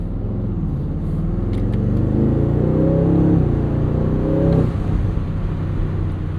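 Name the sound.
Aston Martin Vantage S 670hp V8 roadster accelerating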